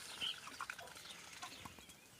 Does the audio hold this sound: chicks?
yes